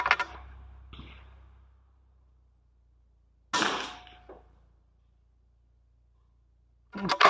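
Three sharp .22 LR gunshots at an outdoor shooting range, spaced a few seconds apart, each a crisp close report with a short ringing tail, and quiet between them.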